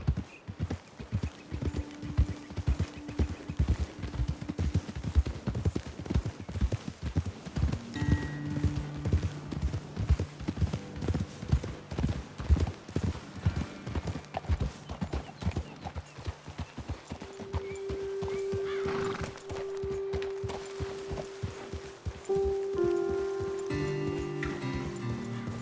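Horses' hooves clop in a steady walking rhythm on dirt in the Red Dead Redemption 2 video game, close and continuous for the whole stretch, with light game music tones rising and holding in the background.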